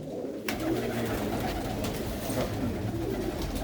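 A flock of kept pigeons cooing continuously, soft overlapping throaty calls close by, preceded by a brief quieter moment at the start.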